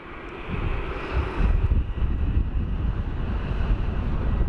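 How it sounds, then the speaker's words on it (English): A jet airliner passing high overhead near Sydney Airport, a steady broad roar that swells slightly midway and holds, mixed with gusty wind buffeting against the microphone. "look at this plane way up here"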